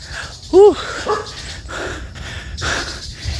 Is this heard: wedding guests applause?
no